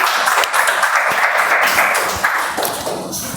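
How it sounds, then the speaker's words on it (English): Audience at a Toastmasters meeting claps in a steady, dense wash of applause that holds loud for a few seconds before easing slightly, with no talking over it. "Round of applause, also."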